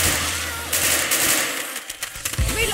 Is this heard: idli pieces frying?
no